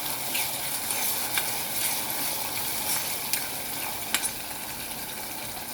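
Pawta beans and chopped vegetables fry in hot oil in a pan, giving a steady soft sizzle with occasional faint pops and crackles.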